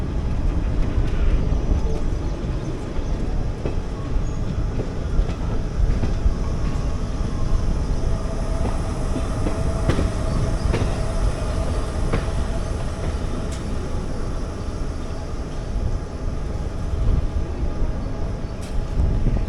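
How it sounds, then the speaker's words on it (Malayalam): A metro train runs along an elevated line above Benniganahalli in Bangalore, heading toward ITPL, giving a steady, loud rumble and rolling rail noise that holds for about twenty seconds with faint clatter mixed in. "ഈ മുകളിൽ കൂടെ പോകുന്നത് മെട്രോൻ്റെ ലൈനാണ്, ITPയിലോട്ട് പോകുന്ന മെട്രോ"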